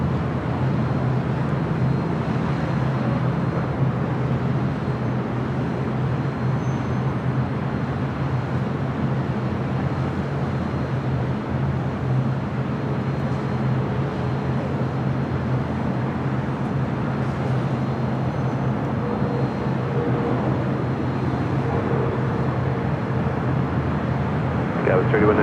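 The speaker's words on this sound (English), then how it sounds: "CRJ rolling down at 6 left." A CRJ regional jet rolls down runway 6 left at LAX for takeoff, a steady broadband engine roar lasting throughout, with radio voices talking over it.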